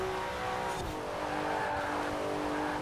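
Turbocharged Porsche engine in Forza Horizon 4, a steady loud drone with a brief tyre squeal or skid early on, no voices.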